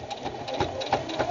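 A Bernina sewing machine runs while stitching fabric coasters, producing a quick, steady mechanical whir and rapid needle clatter, close and clear, with no talking.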